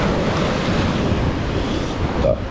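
Energetic ocean waves roll in at Prachuap Khiri Khan beach, a dense continuous wash of surf mixed with wind noise on the microphone, loud and unbroken.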